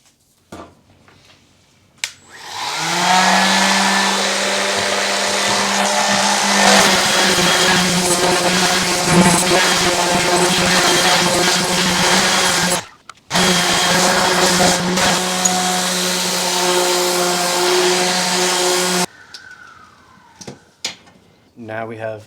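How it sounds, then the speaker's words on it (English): A loud power sander grinds two wooden launch ramp pieces together, running steadily and close for about ten seconds, stopping briefly, then resuming before cutting off into quiet handling noises. "So we're gonna sand these two pieces together to make it even."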